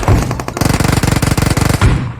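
Rapid bursts of automatic gunfire in the mobile game PUBG rattle loudly in a steady rhythm, framed by a couple of heavier booms at the start and end.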